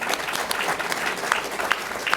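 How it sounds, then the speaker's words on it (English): A room full of people applauding, steady crisp clapping throughout at moderate distance. "Round of applause."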